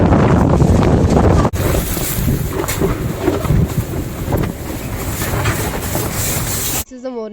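Snowstorm wind blows outside a tent at night in a winter village, a loud, continuous roaring rush with buffeting gusts and flapping right against the microphone.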